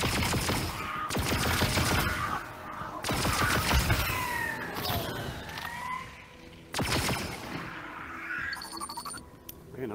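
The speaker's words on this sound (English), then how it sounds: "Let me guess, this is your first time firing a blaster." Bursts of blaster fire crack out in rapid volleys in the Star Wars Tales from the Galaxy's Edge video game, loud and close, separated by short pauses and layered with whining sci-fi effects.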